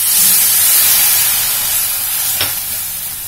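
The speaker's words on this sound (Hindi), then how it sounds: "तो ये मैं दूध डाल देती हूँ।" Milk poured into vermicelli in a hot pan brings a loud, close hiss and steamy sizzle that slowly settles, with a short scrape partway through.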